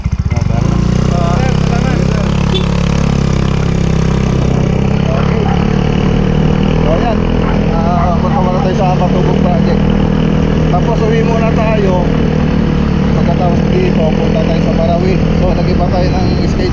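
A motorcycle engine runs steadily and loud throughout at close range, a constant droning rumble, with someone talking over it.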